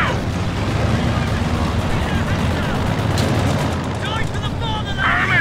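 Dense, continuous gunfire and explosions on a Company of Heroes 2 battlefield on the Fields of Winnekendonk map, with Royal Engineers fighting nearby. The shooting rumbles steadily and loudly throughout, with shouting voices mixed in.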